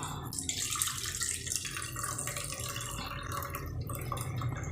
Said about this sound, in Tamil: அந்த பீட்ரூட் ஜூஸை அப்படியே இதில் ஆட் பண்ணிடலாம்